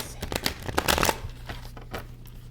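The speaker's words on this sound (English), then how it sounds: "I should really shuffle better than this, but as long as they're mixed up" A deck of tarot cards is riffled and shuffled by hand at close range during a tarot reading, with quick papery bursts and flutters of card edges repeating over a few seconds, no talk.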